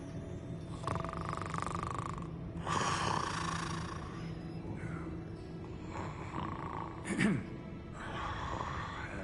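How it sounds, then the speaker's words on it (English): Someone snoring in Hogwarts Legacy, a slow rhythm of soft rasping breaths that rise and fall beneath game ambience, with a short louder creak-like snort near the end. "I hear somebody snoring."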